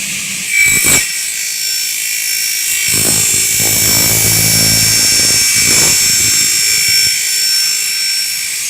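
A double-head aluminium cutting saw spins up with a rising mechanical whir, then cuts with a louder grinding buzz lasting a few seconds before winding down, with a steady high whine throughout.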